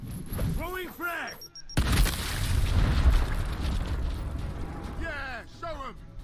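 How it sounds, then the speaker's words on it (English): A frag grenade blasts in the video game Gears Tactics, a loud, rumbling explosion with crackling debris that fades over several seconds, with voices talking before and after it. "Throwing frag!"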